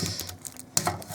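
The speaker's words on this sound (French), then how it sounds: "J'ouvre avec des ciseaux" Scissors snipping sealed plastic wrap on a Pokémon box, a few quick crisp clicks and crinkles, close and brief.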